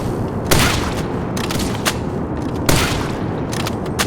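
Gunfire in a Roblox hunting game, loud sharp shots recurring irregularly over a dense, noisy background of continuous rattling.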